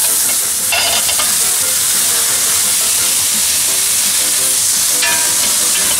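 Mushrooms fry in a pan with a splash of white wine for tagliolini alla burina, a steady loud sizzle with stirring scrapes and a couple of brief clatters, no voices.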